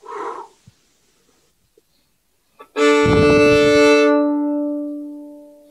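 A loud violin chord bowed with full force in a masterclass, a sustained rich harmonic sound that rings for over a second and fades, preceded by a brief voice and near silence.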